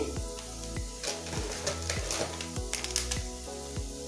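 Finely chopped onions with cumin powder sizzling in a hot pan, a crackly close-up fry with a rhythmic tapping and scraping of a spatula against the pan, no voices.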